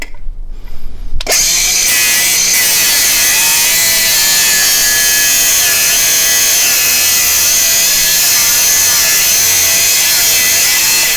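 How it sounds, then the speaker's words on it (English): A power cutting tool grinds through the head of a broken exhaust bolt on a UTV, a loud, continuous high-pitched whine that starts abruptly after a brief quieter moment and holds steady for about ten seconds. "So I'm just cutting the head off the bolt."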